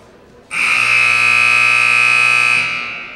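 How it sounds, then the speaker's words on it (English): A girls' basketball game buzzer sounds to end the half, a loud, steady electronic tone that begins sharply and holds for about two seconds before fading out. "And that's the buzzer."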